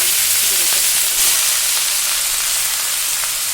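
Leafy greens and dried chillies sizzle in hot oil in a home kitchen, with a loud, steady broadband frying hiss that runs continuously with no talk over it.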